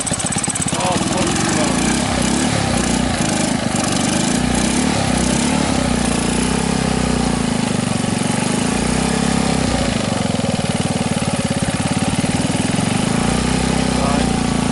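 Honda BF5 outboard motor running in gear and being revved, a loud, close, steady engine drone with a rattling mechanical edge that holds throughout, with voices talking over it.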